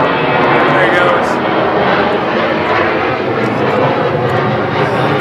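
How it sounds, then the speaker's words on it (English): A commercial airliner passes overhead with a loud, broad jet roar that holds steady for several seconds and swells slightly as it passes. "stupid planes are flying over today"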